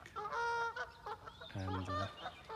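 Geese honk nearby in a large park in several loud, brassy calls, a couple overlapping, with short gaps between them.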